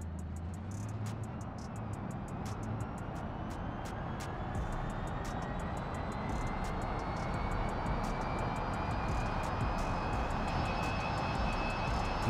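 A car engine in BeamNG Drive fails catastrophically, giving a loud, continuous drone that climbs slowly in pitch for about twelve seconds, with rapid ticking clicks running through it.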